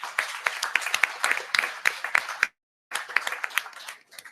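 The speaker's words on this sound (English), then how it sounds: "please join me to give them a big round of applause" Scattered clapping for panelists at the close of a climate technology session, a small number of distinct claps that stop briefly in silence, then resume and fade.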